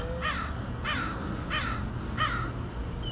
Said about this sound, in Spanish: Ahí andan, ¿dónde están los cuervos? Ahí andan los cuervos.